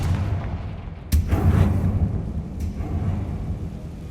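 A Confringo fire spell blast in the Hogwarts Legacy video game, a sudden booming burst that rolls out into a rumbling crackle over a steady dark ambient bed, loud and close, with no talking.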